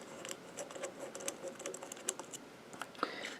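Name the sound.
unscrewing screws from a lightsaber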